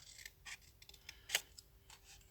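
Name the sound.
scissors cutting out a score line on paper gift box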